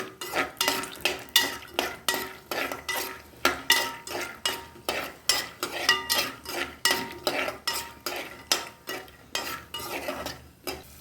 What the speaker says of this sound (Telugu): ఒక కొంచెం ఒక గుప్పుడు వేరుశనగులు తీసుకున్నానండి అవి తీసుకుని బాగా ఎగనివ్వాలి